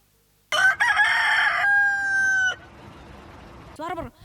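A person imitates a rooster's cock-a-doodle-doo during a Sunday school service, one loud drawn-out crow delivered close to the microphone, followed by a brief quieter vocal trail.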